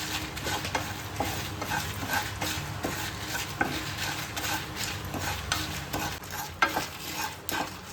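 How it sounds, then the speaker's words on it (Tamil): Spices and salt dry-roasting in a pan give a dense, continuous crackle with quick rhythmic stirring scrapes throughout and a couple of sharper knocks, close and moderately loud, no voices. "அதுதான் நல்லா வாசனை வர வரைக்கும் நல்லா இந்த மாதிரி வறுத்துக்கோங்க."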